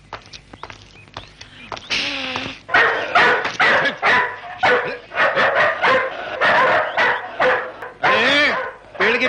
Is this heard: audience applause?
no